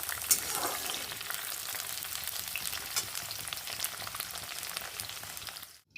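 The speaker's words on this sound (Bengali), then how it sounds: "তো বন্ধুরা দেখো আমি সুন্দর করে আলুটা আর সজনে ডাঁটাটা আমি ভেজে নিয়েছি" Potato and drumstick pieces fry in oil with a dense, continuous close sizzle and occasional faint stirring, fading out abruptly at the end.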